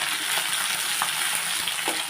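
Tomatoes and green chillies fry in hot oil alongside curry leaves and garlic, giving a loud, close, unbroken sizzle with faint stirring scrapes.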